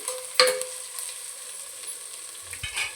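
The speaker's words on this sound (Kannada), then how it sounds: "ಈಗ ಚೆನ್ನಾಗಿ ಹುರ್ಕೊಳ್ಳೋಣ" Chopped onions and coriander fry in a pan for egg rice, starting with a sharp burst as they stir in, then a steady close sizzle with a few soft scrapes near the end and no voices.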